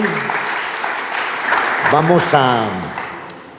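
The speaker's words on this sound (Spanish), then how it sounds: "Dele palmas al Señor con todo su corazón." Church congregation clapping for the Lord during a Spanish-language worship service, a steady wash of applause with a voice and sung or musical tones rising over it midway.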